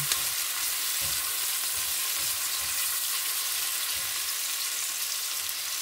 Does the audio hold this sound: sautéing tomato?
yes